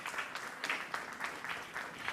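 Audience clapping welcomes a government minister at a mobility conclave, a steady wash of applause with rhythmic swells over about two seconds.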